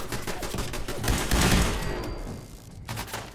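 Gunfire in Fallout 4 bursts in a loud, rapid volley of overlapping shots that swells midway and then tapers into a few scattered reports.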